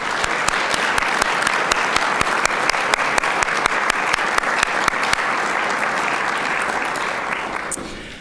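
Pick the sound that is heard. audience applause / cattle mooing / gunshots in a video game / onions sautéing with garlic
audience applause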